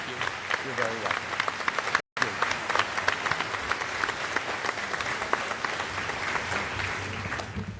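Sustained applause from a town meeting crowd, a broad, even wash of clapping in a large hall with a brief dropout near two seconds, continuing steadily to the end.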